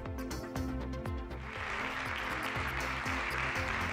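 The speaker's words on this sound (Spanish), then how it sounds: "Y con este aplauso le ha respondido la Cámara Foral" Deputies in the Navarra regional parliament chamber applaud the outgoing president at his final plenary session, a steady wash of clapping that grows denser midway, layered over a sustained low tonal hum and rhythmic background pulses.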